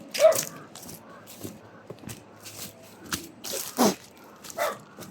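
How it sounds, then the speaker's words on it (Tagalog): Several dogs bark from a distance in short, scattered bursts, with a faint whimper among them, over quiet outdoor background and soft footsteps. "So malapit na tayo kasi may boses ng mga aso."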